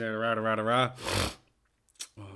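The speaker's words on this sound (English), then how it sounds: "sorry for the nose sniffles" A voice hums or speaks briefly, then a sharp nasal sniffle from someone getting sick follows, with another short snuffling breath a moment later, close to the microphone.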